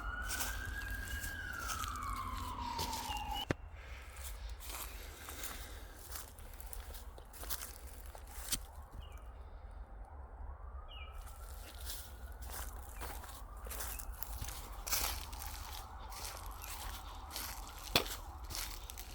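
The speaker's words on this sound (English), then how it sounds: "Can you guys mimic that siren?" A distant siren wails and falls over steady outdoor background noise in the Long Island Pine Barrens woods, followed by scattered footsteps and light rustling nearby, with fainter siren tones later.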